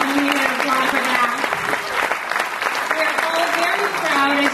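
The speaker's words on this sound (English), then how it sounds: "Yes, we definitely need an applause for that." Loud, sustained audience applause fills a hall at the closing-night gala of the Los Angeles Greek Film Festival, dense and steady throughout with a few voices mixed in.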